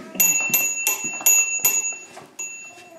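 Rapid metallic clicking bursts from a ride-on toy rolled backwards, about five in a row, bright and ringing like a ratchet, then fading into softer clicks with faint voices nearby.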